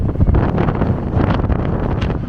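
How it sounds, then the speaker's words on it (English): Strong storm wind buffets the microphone on the Brighton seafront, a loud, continuous roaring rumble with gusty swells over a couple of seconds. "Too bloody windy."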